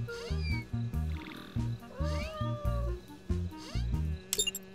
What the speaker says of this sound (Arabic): انظر، هذه هرة برية.